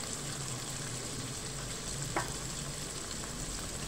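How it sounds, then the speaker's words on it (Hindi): Meat sizzles with spices in a hot pan for an open shawarma, a steady even frying hiss running throughout with one brief stir or clink in the middle and no talk. "सबसे पहले हम गोश्त जो है मसाले डाल के अच्छी तरह से उसे भून के रेडी कर लेंगे।"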